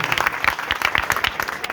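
A Teachers' Day audience at a coaching class claps, a short burst of dense, close applause with individual hand claps audible, a faint voice underneath.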